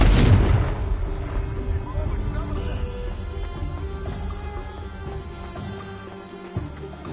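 A Confringo blast spell explodes in a Harry Potter video game, a loud boom at the start that decays into a rumbling tail, followed by background game sounds and a voice speaking.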